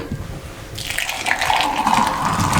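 Doodh soda is poured from a height to mix and froth it, a splashing liquid stream that starts after a quiet moment and runs on steadily, close and bright, with no talk.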